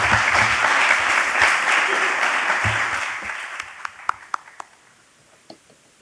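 Audience applause at a marketing and tourism innovation discussion session, a dense round of clapping that fades over a few seconds, leaving a handful of scattered individual claps at the end.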